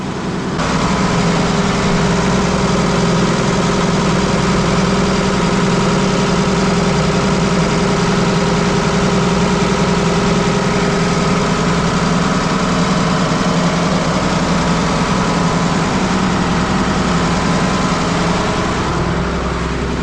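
A 30-ton Åkerman EC300 excavator's diesel engine idles steadily and loudly up close, a continuous low rumble with mechanical vibration that holds throughout, with no voices.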